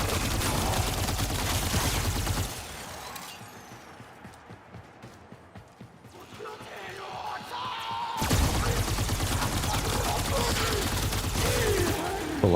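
Gunfire in the video game Warframe: dense bursts of shots fill the first two seconds, drop to a quieter stretch with softer rattling, then return loud and sustained from about eight seconds to the end.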